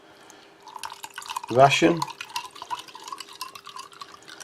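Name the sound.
water poured onto ration drink powder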